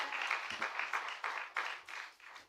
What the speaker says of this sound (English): I think there should be a round of applause.